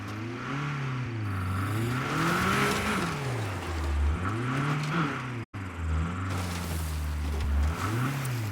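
A car driven in the video game State of Decay 2, its engine loud and close, rising and falling as it revs and shifts through repeated surges, with no talk.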